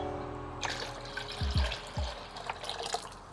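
Water is poured into a tub of worm tea, giving a close splashing pour with a few deep gulping plops partway through, moderately quiet and alone.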